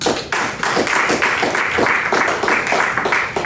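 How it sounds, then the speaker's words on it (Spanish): A church congregation applauding during a sermon, steady dense clapping from many hands filling the space, loud and continuous without talk. "Denle un aplauso a Dios."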